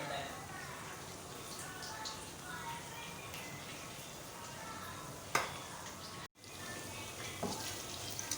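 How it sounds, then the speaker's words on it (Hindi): Garlic and ginger frying in a pan for beef keema, a faint, continuous sizzle with a soft clatter partway through and a brief dropout near the end. "लहसुन अदरक अच्छी तरह से फ्राई हो गया है"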